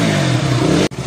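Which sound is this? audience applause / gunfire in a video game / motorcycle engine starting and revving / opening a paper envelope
motorcycle engine starting and revving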